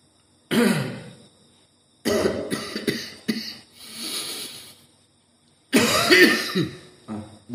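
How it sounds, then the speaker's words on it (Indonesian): Several bursts of coughing and throat clearing, close and fairly loud, separated by short silences. "batuk nih datang lagi"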